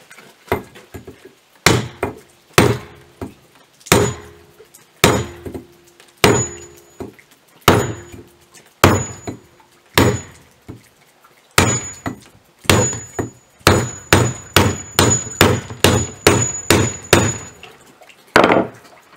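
A hammer strikes repeatedly while a drowning cable is built, sharp metallic blows in an uneven rhythm: a few spaced hits, then a faster run of around a dozen ringing strikes, loud and close, with no talk.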